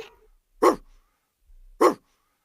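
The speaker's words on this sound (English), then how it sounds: "D for dog." Two short dog barks, evenly spaced about a second apart, each a brief sharp burst standing alone against silence.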